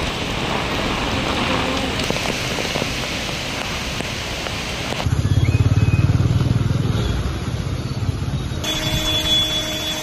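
Heavy thunderstorm rain pours steadily over flooded Mumbai streets, a dense roaring wash of drops, with a louder burst of rushing water partway through.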